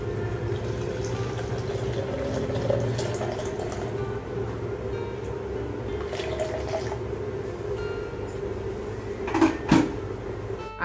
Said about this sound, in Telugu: నేను కొంచెం గోరువెచ్చని నీళ్ళని ఇందులో వేస్తున్నాను